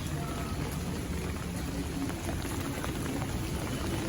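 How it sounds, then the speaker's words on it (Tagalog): Dense monsoon rain hisses steadily on surfaces during flooding, an even, continuous downpour without pauses or voices. "tuloy-tuloy pa rin na magdamag yung ulan"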